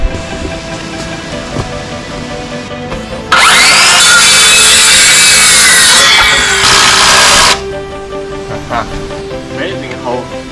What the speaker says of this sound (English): Amazing how literally hot these drills get from these power drillings